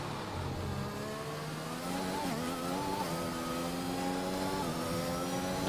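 An F1 race car in the F1 2021 game at the Australian Grand Prix braking into Prost corner, the engine note dropping through downshifts then climbing again under acceleration, loud and continuous without talk.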